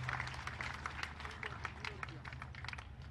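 A crowd at a BJP rally in Rajasthan claps steadily to welcome JP Nadda, dense, fairly faint applause with a rumbling hum underneath throughout.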